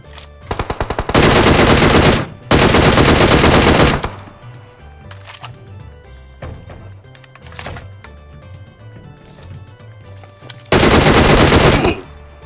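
Bursts of rapid automatic gunfire from a shooter video game, loud and close, in three long sustained volleys separated by quieter stretches of scattered sounds, with no talk.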